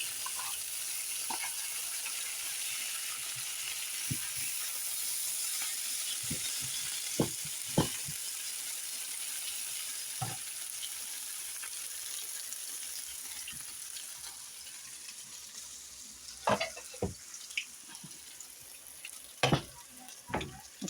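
Homegrown garden potatoes fry in a pan with a steady, close sizzle that runs the whole time, broken by occasional sharp pops and crackles near the end.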